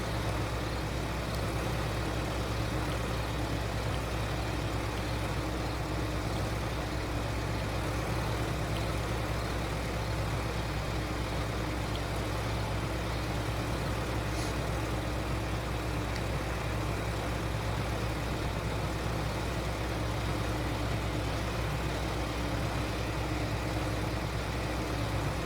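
Tractor and combine engines in a farming video game, a constant low idling drone that stays steady and unbroken for the whole stretch with no talk over it.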